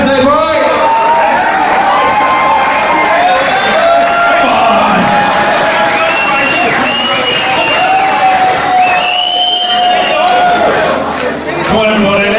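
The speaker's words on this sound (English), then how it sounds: "applause for the birthday boy." Guests at a 40th birthday party cheer and applaud the birthday man, a loud, dense crowd roar with raised voices and chatter running steadily throughout.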